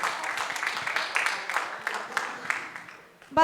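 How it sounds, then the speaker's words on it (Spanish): An audience claps for a contestant called Terminator as he advances to the final round, a steady patter of applause of moderate loudness that fades toward the end before a voice cuts in. "Un aplauso para Terminator."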